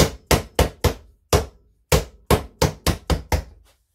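A mallet knocks on a Honda CB400T motorcycle sprocket in about eleven sharp, close hits with a short pause partway through, the last few coming faster as it seats, then silence.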